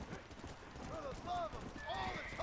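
A horse in the Red Dead Redemption: Undead Nightmare video game trots with rhythmic clip-clopping hooves, fairly soft, with a brief whinny over the steps.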